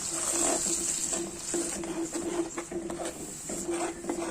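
Rinse water from a mixer jar is poured into a coconut-based fish curry, giving a soft, uneven trickling and splashing with faint patters, fairly quiet and close.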